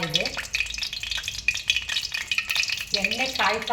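Oil heating and frying in a pan on the stove while preparing Maggi noodles, a steady close sizzle with stirring scrapes throughout.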